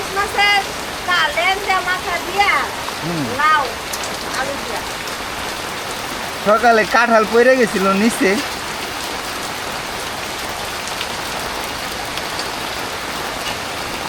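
Heavy rain pours down steadily on a village, a dense hiss of drops hitting surfaces all around, with people talking over it in two stretches before the rain carries on alone.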